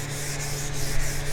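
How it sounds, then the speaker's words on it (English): Sandpaper scrubbing rust off a cast iron table saw top in steady rhythmic strokes, close and continuous, with a low hum beneath and no voices. "just take the sandpaper and just start sanding"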